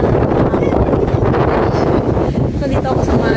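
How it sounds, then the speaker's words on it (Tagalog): Strong wind buffets the microphone on an open terrace, a steady, loud rushing roar that never lets up across the whole stretch, with no voices coming through. "Malakas po ang hangin."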